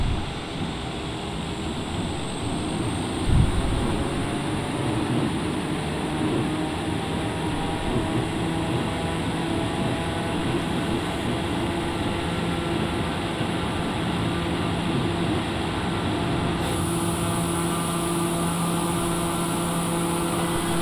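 A TBM 930 turboprop departs Watsonville to the east on takeoff, its engine a loud, steady, broadband cabin drone that holds evenly throughout, with no voices over it.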